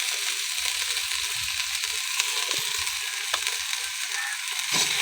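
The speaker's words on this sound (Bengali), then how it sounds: "দেওয়ার পর একটু নেড়ে চেড়ে কষে নিতে হবে মশলাটা" Masala spices with turmeric and salt fried and stirred in a pan for a cauliflower curry, a steady dense sizzle with faint intermittent scraping of the spatula, close up and without speech.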